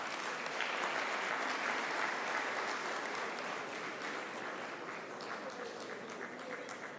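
An audience at a university founders lecture applauds in a dense, steady wash of clapping that carries on for several seconds, slightly distant and with no voices over it.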